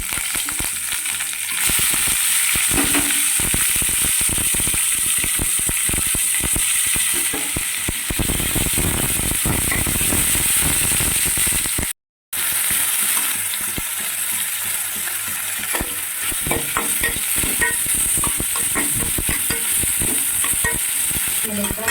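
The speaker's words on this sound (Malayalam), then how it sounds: "അതിലേക്ക് നമ്മൾ എടുത്തു വെച്ചിരിക്കുന്ന ചെറിയ ഉള്ളി, ഇഞ്ചി, പച്ചമുളക് എല്ലാം കൂടി ഒന്ന് നമ്മൾ ഇതിലോട്ട് ചേർത്ത് കൊടുക്കുക." Shallots, ginger and green chillies with curry leaves sizzle and fry in hot coconut oil, a loud continuous crackle with stirring scrapes and a brief cut midway.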